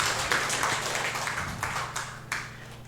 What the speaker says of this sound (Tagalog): At muna pong malakas sa palakpak po sa Panginoon.